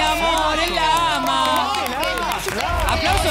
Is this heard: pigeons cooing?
no